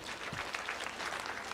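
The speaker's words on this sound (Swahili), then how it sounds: "mahai makofi." Applause from a crowd at a burial gathering, a dense, steady patter of many clapping hands, moderately distant and continuous for a short burst.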